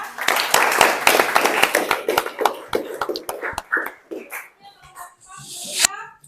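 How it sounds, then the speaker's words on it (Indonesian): A classroom of students at a vocational high school claps for a presenting group, a dense burst of applause that thins into scattered claps, with a teacher's voice and children's chatter mixed in. "Terima kasih untuk kelompok 3, beri aplaus ya."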